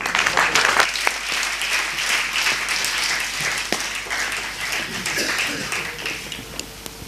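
An auditorium audience in Nagpur applauds warmly to welcome Dr. B M Hegde for a keynote, a dense, sustained clapping from a large crowd heard alone.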